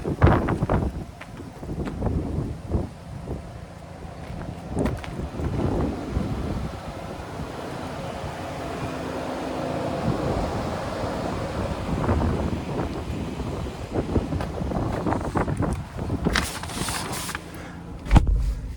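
Strong gusts buffet the microphone outdoors beside an idling Ford Ranger Lariat FX4, with loud irregular rumbling bursts that swell and fade over the whole stretch, masking most other detail.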